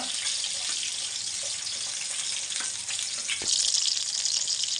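Chopped onion and green chili fry in hot oil for a mango chicken curry, giving a steady loud hiss and crackle close up with a few soft clicks of stirring, and no speech.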